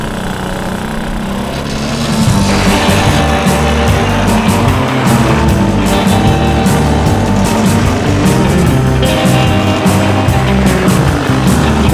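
A cargo moped's small engine idles, then rises to a louder, steady running drone from about two seconds in as it is driven off, continuing without a break to the end.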